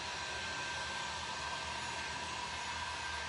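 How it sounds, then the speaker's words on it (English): A heat gun drying fresh blue paint on an old cabinet, a steady, even blowing hiss that holds constant throughout with no break. "When you apply the heat gun to it and dry it fast, it gets a lot of cracking."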